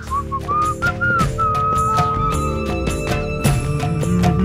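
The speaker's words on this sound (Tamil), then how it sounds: "நேத்து பாடின அதே பாட்டு விசில்" A man whistles a melodic song tune, the same one sung the day before, in clear sliding phrases over a steady musical background.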